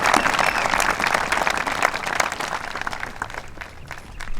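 An audience at a ceremony honoring veterans applauds with a dense, continuous burst of clapping that stays loud before thinning slightly near the end.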